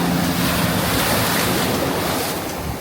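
Ocean waves wash steadily onto a sandy beach with rocks and a pier in Ibiza, a loud continuous surf roar with heavy wind buffeting, and no voices.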